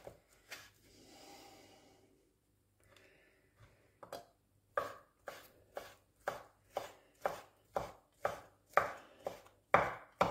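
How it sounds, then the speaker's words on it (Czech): A knife chops English bacon on a board, with a few scattered cuts and quiet breathing at first, then about ten sharp, evenly spaced chops that grow louder and close. "Tak a taky si nakrájím tady slaninu."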